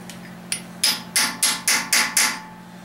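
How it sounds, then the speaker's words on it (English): Hammer blows on a chisel against the edge of a part during final assembly of a 1999 5.7 engine: one light tap, then five sharp metallic strikes at a steady pace, close and loud. "you come in and hit here on the edge"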